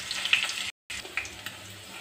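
Asafoetida, red chili, ginger, green chili and kasuri methi frying in a pan for aloo sabji give a close, steady hissing sizzle, briefly cut off by a moment of silence before resuming.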